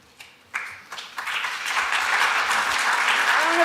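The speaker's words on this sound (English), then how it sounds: "Round of applause." Applause at a panel session on public and private health partnerships begins as a few scattered claps, then swells into full, sustained clapping from the audience that keeps building to the end.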